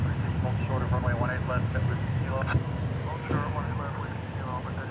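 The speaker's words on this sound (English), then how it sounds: "The A380 is landing on the east side." An Airbus A380 lands at DFW Airport, its steady jet roar rumbling low and continuous beneath nearly constant excited talking.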